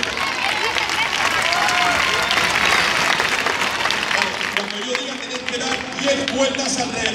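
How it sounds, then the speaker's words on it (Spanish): Outdoor crowd applause at a heifer-running fiesta in Melilla, loud broadband clapping and crowd noise filling the first few seconds, then thinning into general hubbub with some talk. "Y fuerte aplauso para ellos."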